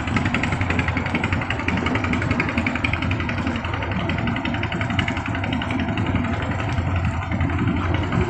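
Several motorcycles sit parked in front of Gope Beach during the 2021 New Year holiday, engines idling in a steady, continuous rumble with busy crowd and beach ambience around them.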